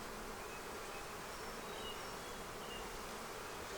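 Bees hum steadily across an entire brood frame inside a red Flow Hive, a dense, even buzz held close and alone for the whole stretch, with no voices over it.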